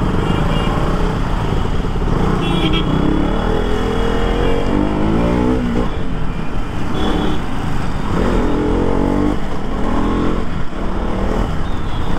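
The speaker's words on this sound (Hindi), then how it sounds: "and I am near Patna women's college, तो भाई ये रोड हमेशा से ऐसे ही क्राउडेड रहता है" Busy, crowded road traffic near Patna Women's College, heard from a motorcycle: continuous engine drone with passing cars and bikes revving close by, a dense steady roar.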